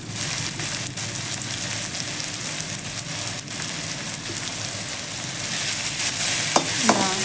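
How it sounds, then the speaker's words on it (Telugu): Thinly sliced onions sizzle and crackle in hot oil in a pan as they are stirred, a steady dense frying hiss with a few scraping spoon sounds toward the end, close and continuous with no talking. "ఉల్లిపాయలు కాస్త మంచిగా దూరగా వేగేంత వరకు వేయించుకుందాం"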